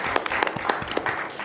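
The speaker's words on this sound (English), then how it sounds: "I think that deserves a round of applause." A small group at a school committee meeting gives a short round of applause, individual claps distinct and uneven, fairly close and moderately loud.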